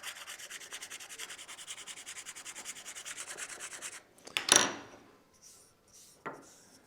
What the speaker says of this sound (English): sand it a tiny bit so it sits a little lower